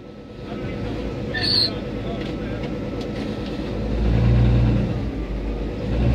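A 1947 Chevrolet pickup truck engine runs steadily with a low rumble, swelling briefly in the middle and again near the end, while people talk over it.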